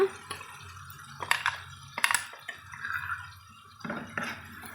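Water splashes and drips into a pan of cooking masala for a jackfruit-seed curry in several short pours, with clinks of a vessel and quiet gaps between.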